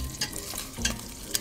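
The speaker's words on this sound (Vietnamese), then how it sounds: "Mình chiên tầm 10 cây thôi nha cả nhà" About ten sausages fry in a pot, crackling and sizzling steadily up close, with a few sharper pops and spatters and no voices.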